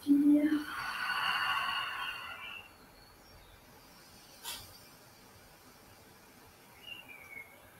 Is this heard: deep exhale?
yes